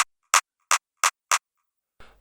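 Clap sample from a hip-hop beat, heard alone as four bright, dry, evenly spaced claps, ending with a faint breath of noise.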